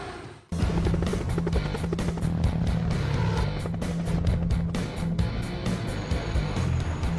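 A steady, loud engine drone with rapid rhythmic chopping starts abruptly and continues throughout, like a helicopter flying close by.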